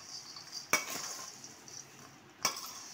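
A spoon scrapes and clinks against a pan while poha namkeen mixture is stirred, with two sharp metallic taps standing out over a soft, continuous rustle; fairly quiet and without talk.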